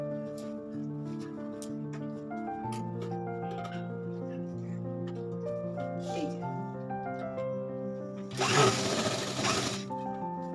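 A sewing machine stitches fabric in a brief, loud burst of rapid mechanical whirring near the end, after a stretch of continuous talking in a quiet room.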